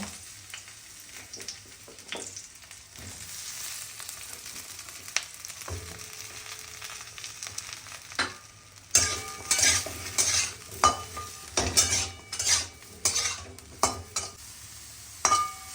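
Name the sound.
eggplant pieces frying and being stirred in oil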